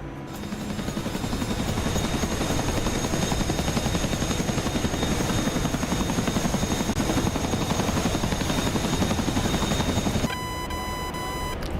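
A Chinook helicopter in a video game gives a loud, constant rotor thump with fast rhythmic chopping over a continuous engine whine. It cuts abruptly near the end, leaving a thinner tonal hum.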